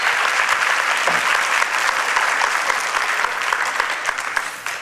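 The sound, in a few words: applause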